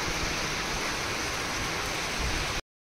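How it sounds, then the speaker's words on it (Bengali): Heavy rain with big drops pours down in a dense, steady roar, loud and close, hissing unbroken for over two seconds before cutting off abruptly to silence. "এই দেখো বৃষ্টি হচ্ছে, কি বড় বড় ফোঁটা"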